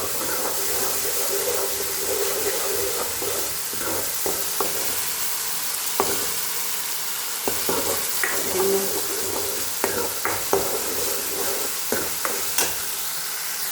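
Ingredients for a garlic-pepper gravy sauté in a pan with a constant close sizzle, punctuated by intermittent sharp clinks and scrapes of a spoon stirring against the metal.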